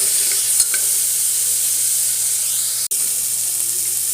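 Onion, green chili and curry leaves fry in hot oil as the base for a country chicken soup, making a loud, close, unbroken sizzle with a brief stir or clank partway through.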